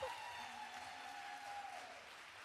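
Distant audience applause at a women's poetry slam, soft and even, continues for a few seconds with a faint steady tone underneath.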